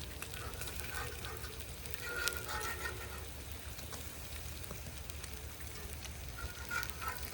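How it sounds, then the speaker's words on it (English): Bacon and sausages sizzle on a big outdoor breakfast griddle, a steady crackling hiss that runs evenly throughout with a low rumble beneath, no voices present. "Today I am starting breakfast outside on our griddle, and just got some bacon, sausages, and some pancakes"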